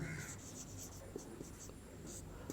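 Pen writing by hand during a Class 10 maths lesson makes faint, close scratching and tapping strokes, partly under a teacher's quiet speech.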